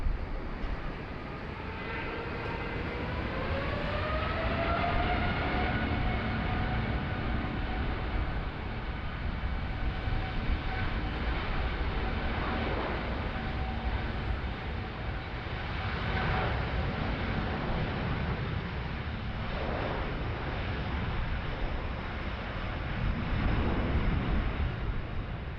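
A Cebu airliner takes off from runway 16 right at Sydney Airport during a thunderstorm, its engines a loud, continuous roar that rises in pitch and holds steady for the whole stretch.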